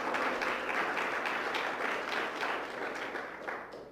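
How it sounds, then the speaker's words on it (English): An audience at a live event with Lawson Inada applauds the event sponsors. The clapping is steady, fairly distant and moderately loud, then thins out toward the end. "So let's give them a quick round of applause."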